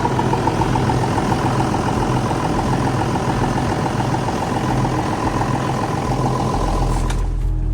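A steady tractor engine idles with a low, even rumble and a faint rhythmic ticking, continuous throughout, with no talking.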